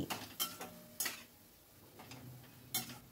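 Spatula scraping and tapping in a pan while masala and chopped tomatoes are stirred, a few sparse clicks and scrapes, faint and close, with no talk.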